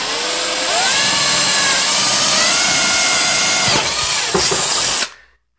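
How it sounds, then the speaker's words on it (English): A loud power drill whines close by, its pitch climbing as it bites into a wooden board, then cuts off abruptly near the end. "I'm going to drill a hole so I can get the saw blade in there"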